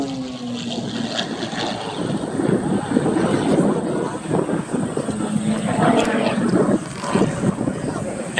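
Aerobatic airplane engine roaring through a big loop at an Orange County, New York air show, a steady loud drone with shifting pitch over open-air crowd noise and a commentator's voice.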